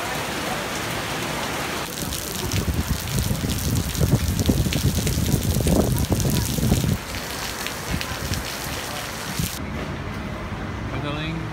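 Rain falling steadily in Kuala Lumpur, a constant hiss of drops with heavier spattering in the middle stretch, near and loud, with some voices in the background.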